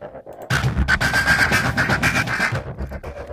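Layered percussive grease-fire sample from the Sample Logic Rumble instrument, a loud dense rumbling crackle with rapid sharp hits, starting abruptly after a brief quiet moment and sustaining to the end.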